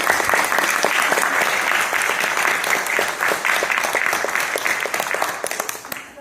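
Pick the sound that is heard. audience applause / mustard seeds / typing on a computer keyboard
audience applause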